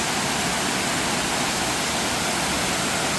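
Waterfall at Keystone Lake in Westmoreland County, roaring as a dense, steady hiss of falling water, loud and close, unchanging across the clip with no voices.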